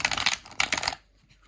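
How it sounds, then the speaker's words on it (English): Tarot cards from a witch-themed deck being riffle shuffled, two quick close bursts of crisp fluttering card clicks, then near silence, with no talking. "They've got a nice sort of glide and slide to them, so they sort of nicely riffle shuffle."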